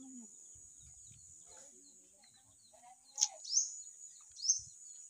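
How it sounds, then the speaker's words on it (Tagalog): A bird calls outdoors, a few short high chirps standing out over quiet background near the end, with faint low sounds in between. "Ibon oh."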